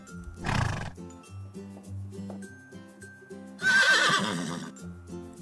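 A toy barn plays an electronic horse sound: a loud neigh, then a second longer whinny, over a simple jingling tune that runs throughout.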